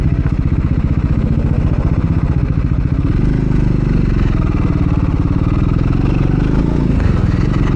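Triumph Scrambler 400X motorcycle engine and exhaust idling close by, a steady loud thumping single-cylinder pulse that deepens and grows fuller partway through as the revs lift slightly.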